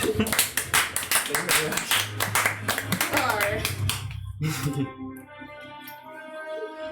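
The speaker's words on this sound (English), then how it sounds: "A clap for Gillette." Players at a tabletop role-playing game session clap for a character, a quick burst of hand claps and taps that fades as talking takes over.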